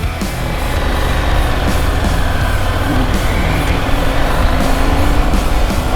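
A KTM motorcycle on a paved desert road pulls away with a loud, close engine roar. The pitch climbs steadily through the gears over several seconds.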